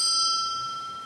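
A servant's call bell rings once with a clear metallic strike, its bright tone hanging and slowly decaying for about a second, close and alone.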